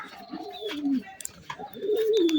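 Pigeons perched in trees give soft, low cooing calls, several overlapping coos at close to moderate distance, with faint higher bird chirps behind and no talking.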